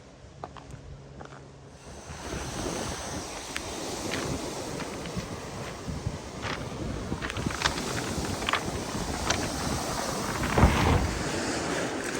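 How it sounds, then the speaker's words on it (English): Waves wash and break against a rocky shoreline in Tobermory, Ontario, a continuous rushing surf with gusts of wind buffeting the microphone, no talking. "listening to the waves crashing into the rocky shoreline"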